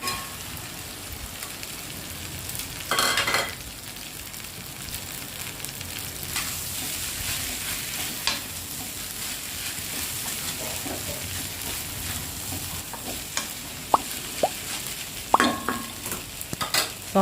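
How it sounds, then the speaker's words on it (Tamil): Cooked rice being stirred into sautéed grated mango and turmeric in a pan, with soft frying crackle, repeated spatula scrapes and occasional sharper clinks, close and steady without speech. "அதை போட்டு மிக்ஸ் பண்ணிக்கலாம்."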